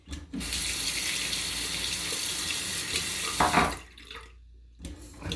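Tap water runs steadily into a sink before a shave, a close, continuous splashing stream for several seconds that cuts off abruptly, then briefly resumes.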